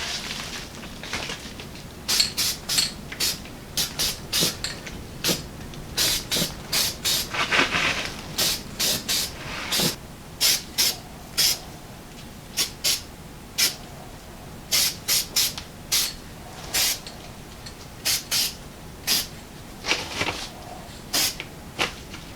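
Eastwood rust converter is misted from a spray can onto the metal of a 1959 Willys Jeep truck in a long series of short, sharp hissing bursts, close up and fairly regular, with no one talking.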